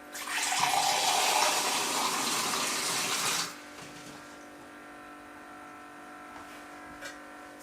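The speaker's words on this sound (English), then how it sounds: "pour some water into the pot" Water pours into a pot at a steady, splashy rush, about two cups for soursop tea. It stops after roughly three and a half seconds, leaving a low background hum and a couple of faint knocks.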